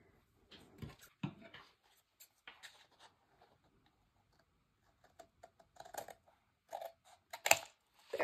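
Scissors cut the corners of a paper mini album in a craft session, giving sparse, soft snips and rustles in small clusters. Quiet gaps fall between them and the sounds stay close.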